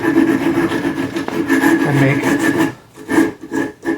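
A steel bicycle fork crown on a handmade track fork is sanded or filed with loud, close, continuous scraping that breaks into slower separate rasping strokes toward the end.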